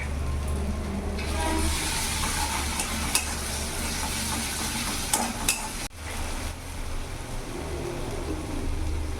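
Ginger, garlic and chili paste frying in a pan for a fish masala curry, a close continuous sizzle with spoon stirring and scraping, briefly dipping near the middle before resuming.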